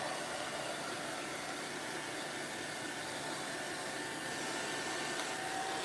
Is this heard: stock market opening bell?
no